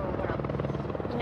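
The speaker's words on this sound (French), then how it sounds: "Un hélicoptère de la gendarmerie vient stationner quelques instants près du champ." A gendarmerie helicopter hovers near a field, its rotor producing a steady rhythmic chop at moderate distance, with a voice speaking over it.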